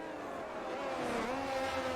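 An F1 car in the F1 2022 video game at the Austria circuit drones past with a sustained engine whine that rises in pitch through a gear, fairly faint and steady.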